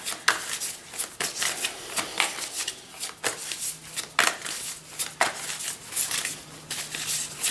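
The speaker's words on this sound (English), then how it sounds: "And I'm going to pull a card" Tarot cards shuffled by hand close up, a steady run of papery riffling and flicking bursts with crisp snaps throughout, no talking.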